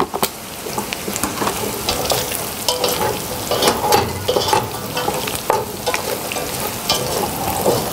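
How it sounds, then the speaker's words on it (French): Butter and aromatic vegetables sizzle loudly in a pan for a Corsican jus, with a dense crackling hiss, frequent clattering stirs and scrapes, close up and with no voices. "Nous allons maintenant ajouter le beurre. La garniture aromatique."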